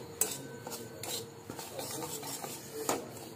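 Semolina roasts dry in a pan while a spoon scrapes and stirs it, giving soft, quiet rubbing strokes with a few sharper metal clinks against the pan.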